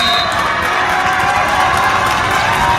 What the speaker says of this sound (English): Now Lunsford comes into a big round of applause from the Poston faithful